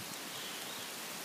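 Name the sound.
rain falling in a cemetery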